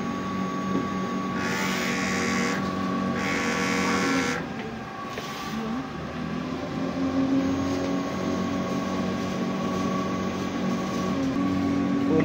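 An inkjet printer runs a nozzle check with a steady mechanical hum and tonal whine, with two bursts of brighter whirring near the start.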